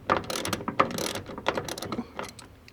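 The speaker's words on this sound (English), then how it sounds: "Take those Torx bolts out" A ratchet wrench backs Torx bolts out of a Mini Cooper door stop, giving close, irregular bursts of quick metallic clicking that fade toward the end.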